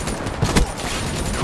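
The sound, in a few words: gunfire in Call of Duty Black Ops 3 video game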